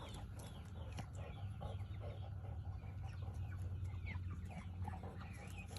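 Chickens cluck softly in a backyard garden, scattered short calls over a steady low outdoor hum and insect drone, fairly faint and distant, with no talking.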